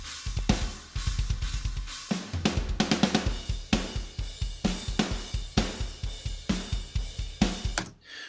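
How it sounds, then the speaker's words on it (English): Raw, unprocessed drum kit mix with triggered kick, snare and toms blended in, no EQ or compression, playing a steady driving beat with hard regular hits and fills, loud and alone. "That's just the raw sounds with the triggers from the kick, snare and toms blended in"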